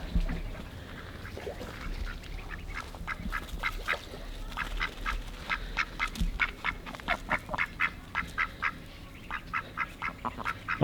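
Several ducks quack in quick, rhythmic bursts nearby, the calls growing busier and more continuous over steady background noise.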